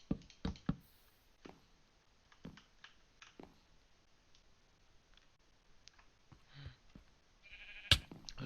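Sheep in the Minecraft video game, a pink one among them, bleat once or twice, faint and brief, amid scattered soft knocks and clicks of gameplay with no talk.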